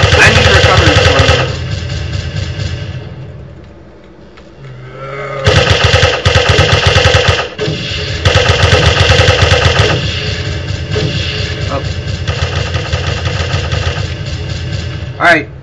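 Rapid Uzi gunfire from the Radio Zed video game, loud sustained automatic bursts with a brief lull before firing resumes, under occasional talk.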